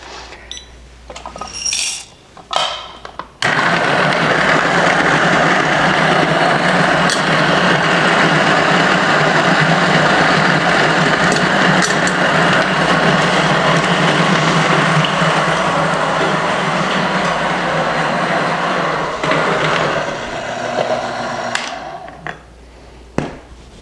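Espresso machine brewing a shot, a steady loud mechanical hum and whir running for about twenty seconds, bracketed by short clinks and handling noises at the start and end, with no voices.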